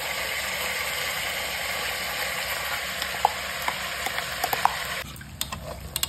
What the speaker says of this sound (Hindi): तो मटन डाल के 2 मिनट अच्छे से भून लिया मटन को